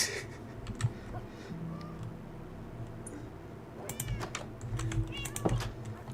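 A Minecraft cat meows several times in quick succession, its short rising calls mixed with rapid keyboard clicking and a low steady hum, all fairly close and at moderate loudness.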